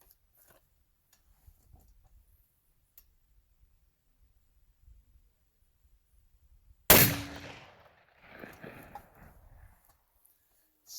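A full-bore 12-gauge rifle of .729 caliber fires a .50 caliber sabot outdoors. After near silence comes one loud, sharp shot, followed by a brief echo and faint rustling.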